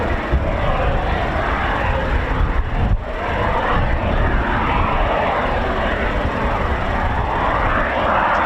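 A Eurofighter Typhoon FGR4 jet at RAF Coningsby, a loud, continuous engine roar that holds steady throughout with a brief dip partway through.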